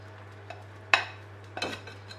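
Spatula scraping and clinking against a mixing bowl while chocolate and passion fruit cake batter is stirred, a few sharp knocks and scrapes over a quiet steady hum, close by.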